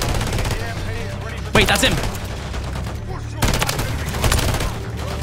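Rapid automatic gunfire from the JAK Burnout Kit gun in Modern Warfare 3, dense bursts of sharp cracks in two main volleys with short gaps, while someone speaks briefly over the shooting.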